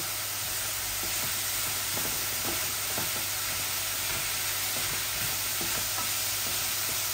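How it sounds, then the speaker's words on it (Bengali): Steady sizzle of spiny gourd (kakrol) frying in a pan, a continuous hiss with occasional soft stirring scrapes, no voices. "এটা শুধু ভাজা করতেছি।"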